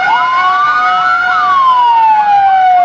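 Police and fire brigade vehicles run their sirens during a flag march, a loud close wailing tone rising and then falling steadily over nearly three seconds with traffic rumble beneath.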